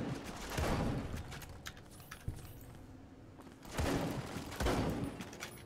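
Gunfire in Fallout New Vegas, with several bursts of shots aimed at turrets, heard as clusters of sharp cracks separated by quieter gaps, loud and close in the game mix with no talking.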